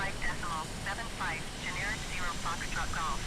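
A-10C jet aircraft in Microsoft Flight Simulator rolling out after landing, a steady low engine rumble and hiss running beneath someone talking continuously over it.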